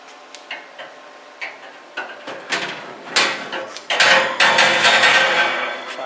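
A heavy-duty metal grate set into a Traeger wood pellet grill, with a series of close metallic clanks and knocks that build to louder scraping and rattling toward the end, no voices.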